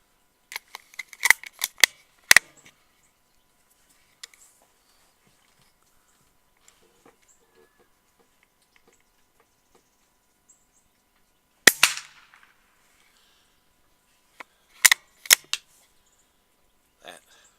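Subsonic .22 LR rounds strike orange targets outdoors, heard as sharp, dry cracks and snaps in small clusters separated by long near-silent gaps, fairly quiet overall.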